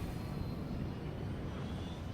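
Steady, dense drone of an aeroplane in flight during a Resident Evil 5 cutscene, a continuous low engine roar with faint high whine, no voices.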